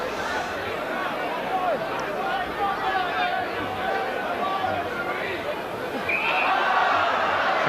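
Stadium crowd jeering the referee at a rugby league match between Featherstone and Leeds: a steady, distant roar of chatter and boos that swells slightly near the end, heard beneath a commentator's voice.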